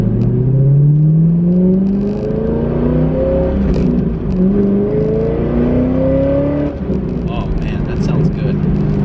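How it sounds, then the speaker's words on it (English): A C5 Corvette engine revs up repeatedly through the gears, pitch climbing with each pull, loud and close, with a voice talking over it. "The acceleration is effortless in this car."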